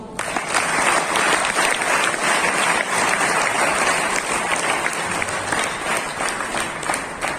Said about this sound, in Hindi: एक बार ताली बजाओ आपको।